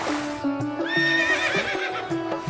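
A horse neighs loudly and close by, a long quavering whinny with clear rising and falling pitch, joined by a few soft hoof clops.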